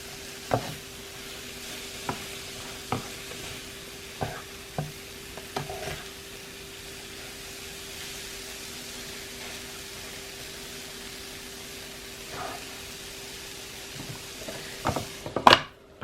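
Banana pieces cooking on a Dash 8-inch electric griddle, a faint steady sizzle with scattered spatula taps and scrapes, then a louder clatter at the very end, no voices.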